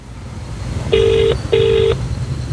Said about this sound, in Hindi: बेल जा रही है इस नंबर पर, लेकिन कोई भी शख्स ये फोन नहीं उठा रहा।